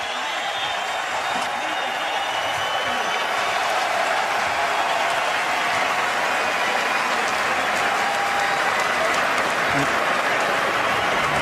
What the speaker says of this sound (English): So the crowd responding here down the stretch.